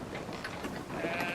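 Lamb bleating in a story video game, short wavering bleats over a busy game background, fairly quiet.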